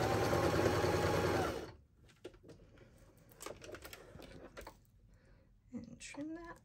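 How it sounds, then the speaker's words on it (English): A sewing machine stitches straight across necktie fabric with a back stitch, a loud steady whirring run for under two seconds, then softer clicks, fabric handling and faint voiced sounds nearby. "Back stitch and just sew straight across."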